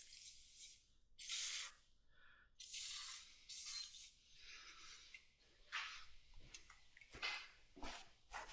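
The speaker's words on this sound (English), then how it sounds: "I got something better than WD-40. Croil. Like WD-40, this is a proper penetrant." Croil penetrant sprayed from an aerosol can in several short hissing bursts, close and loud, separated by pauses, with faint handling noises between.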